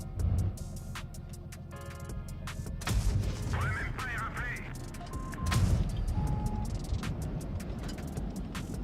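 A tank gun fires in World of Tanks Blitz, heard as a few heavy booming shots over a constant engine rumble and game sounds, with a player talking over the action.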